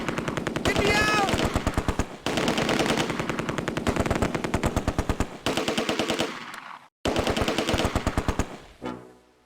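Rapid machine gun bursts in the wartime strategy game Close Combat: A Bridge Too Far, long rattling strings of shots broken by brief pauses, loud and dense, with a voice briefly heard among the fire.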